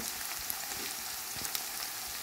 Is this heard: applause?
no